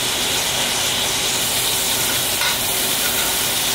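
A New York strip steak sizzles loudly and steadily in hot fat as a spoon bastes it, with dense crackling hiss and occasional metallic scrapes, no voices.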